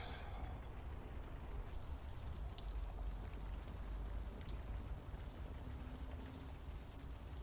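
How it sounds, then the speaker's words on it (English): Steady video game rain pouring down in Unavowed, a dense even hiss of drops with no voices, constant throughout. "It's never gonna stop raining"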